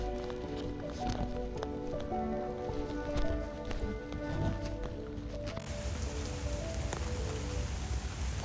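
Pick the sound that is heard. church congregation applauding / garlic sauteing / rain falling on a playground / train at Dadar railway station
rain falling on a playground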